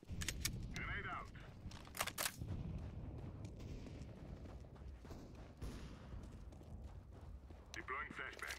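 A grenade goes off in a Counter-Strike: Global Offensive round, amid a few sharp gunshot cracks and rumbling blasts, with voices talking over the fairly quiet game audio.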